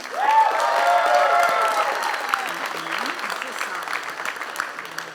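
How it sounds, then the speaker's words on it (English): Audience applause at a skeptics' panel event, loud clapping from a crowd that swells at once, then thins and fades while a voice talks faintly over the tail. "if you believe that it's the worst pseudoscience of the panel, then I would like you to applaud"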